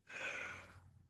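A person yawning during a relaxation exercise: a long, drawn-out breathy exhale that swells and then fades, heard up close and on its own, with no talking.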